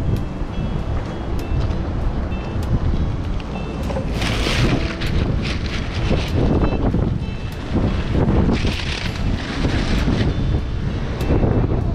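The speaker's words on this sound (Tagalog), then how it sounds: "lakas po talaga ng hangin" Strong wind blows across the sea during a small-boat fishing trip in the Philippines, with loud, constant buffeting gusts on the microphone, rushing water and waves beneath, and no voices.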